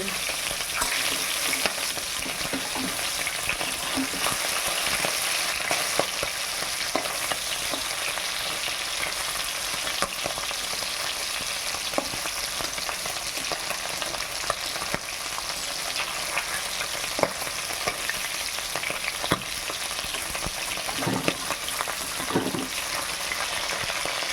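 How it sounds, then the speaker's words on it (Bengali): Whole tangra fish fry in hot oil with a loud, continuous close-up sizzle and frequent sharp spattering pops and crackles that keep going without pause. "যখন ফাটছে মাছ ভয় লাগছে না"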